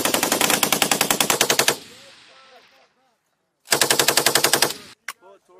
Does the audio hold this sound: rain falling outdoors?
no